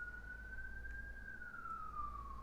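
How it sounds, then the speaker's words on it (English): An emergency vehicle siren wails outdoors in the distance, one steady rising and falling tone over low traffic rumble. "these sirens keeps going off outside"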